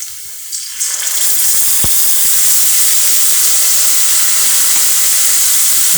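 Chicken drops into a pan of fried onions and sets off a sudden, loud hiss of sizzling. The hiss starts within the first second and then holds steady and close until the end.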